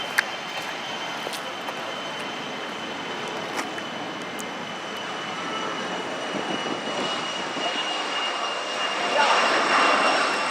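A jet or propeller airplane takes off at a distance near an aviation museum, its broad roar holding steady and then swelling louder toward the end, with faint voices and outdoor noise around it.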